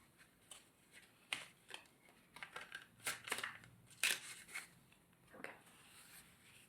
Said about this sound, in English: I will draw one card for you